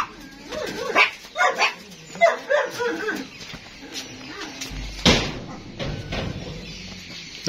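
Dogs at a dog kennel in Dinajpur bark and yip in a quick, uneven burst of calls nearby, followed by a few scattered barks and some whimpering.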